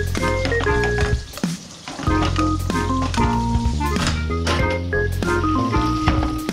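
Beef steak sizzles loudly in a pan while being basted, a close crackling fry with sputtering pops and a constant hiss, and faint background music plays throughout.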